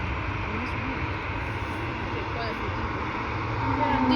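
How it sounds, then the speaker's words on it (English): An Air Canada Airbus A220 takes off near the end of the runway at Vancouver International Airport, a steady, loud broadband engine roar with a deep low rumble, swelling slightly toward the end. "Air Canada A220 taking off."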